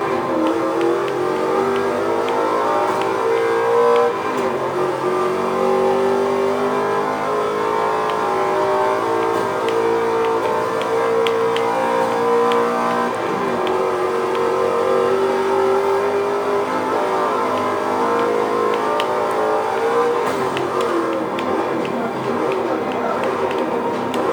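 A race car engine in a video game, played through an Ultimea Tapio I Pro soundbar, revs and drones continuously, pitch rising and falling through gear changes, loud and steady.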